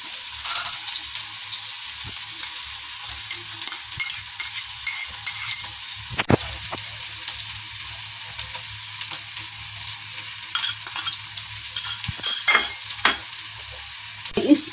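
Onions frying in a pan for malai kofta, a steady soft sizzle with occasional louder clatters of stirring, heard alone without talk.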